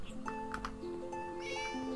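A cat meowing in the Divine Divinity fantasy role-playing video game, with a few short, tonal meows, fairly close and clear, over a quiet ambient background.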